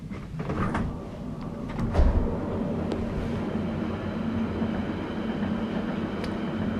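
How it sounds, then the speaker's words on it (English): A steady, loud rumble of a passing London Underground Central Line train fills the whole stretch, with a few clanks and rattles near the start. "All I can hear is the train."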